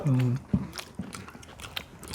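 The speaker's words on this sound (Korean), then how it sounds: "김치전이 끝내 바삭바삭하네." Someone bites and chews a crispy kimchi pancake made with squid, close to the mic. There are several quick crunches and soft chewing sounds, with a short voiced sound at the start.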